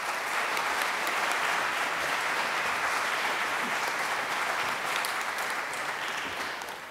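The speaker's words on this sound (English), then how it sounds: "Every time I come up, you clap." Sustained applause from a conference audience after a regional presenter's speech, dense and steady for about seven seconds and tapering slightly at the end, with no voices over it.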